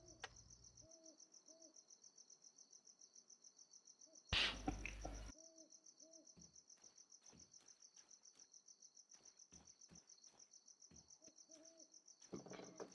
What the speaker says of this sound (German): Freundliche Vogel.